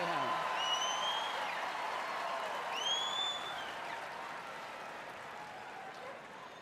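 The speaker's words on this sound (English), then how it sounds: "See, the crowd supports the little ones too." Applause at a Westminster Kennel Club dog show for a dachshund, sustained clapping from a crowd that gradually fades, under someone talking.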